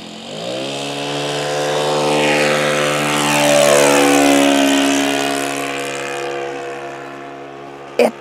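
Large nitro-fuelled model airplane on its first flight, its engine whining in a steady drone that swells as it passes nearer and then fades slightly, with a brief bump at the very end.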